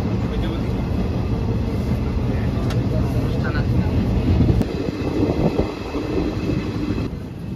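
Rumbling, steady roar of the Rampurhat express passenger train running toward Bandel Junction, heard from inside, with a few sharp clanks and rattles over the continuous low noise.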